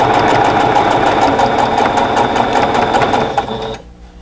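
Sewing machine stitching a quilt block seam, a fast steady mechanical whir with rhythmic needle pulses that runs close and loud, then stops abruptly near the end.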